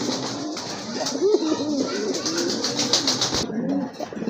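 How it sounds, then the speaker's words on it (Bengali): Lahori Sirazi pigeons cooing close by, a run of soft, throaty rolling coos over a busy background, with a person speaking over part of it. "লাহোরি সিরাজি কবুতর না?"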